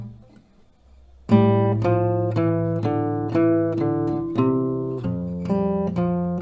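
Acoustic guitar picks out a melody from a song after a near-silent second, with clear plucked notes ringing over a sustained low bass note, steady and close.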